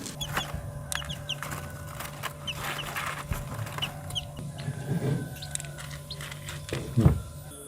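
Young chicks just separated from the mother hen give scattered, faint, high peeps and soft chirps, close by, over a quiet indoor background with occasional light rustling.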